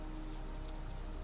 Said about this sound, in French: le bruit régulier de la pluie qui commence à se calmer